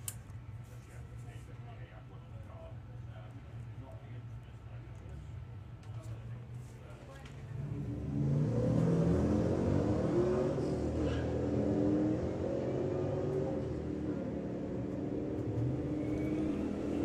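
A Jeep and a Mustang race at a Santa Pod Raceway drag event, with engines that grow louder and roar at the launch partway through. A commentator's voice runs over the engine noise the whole time.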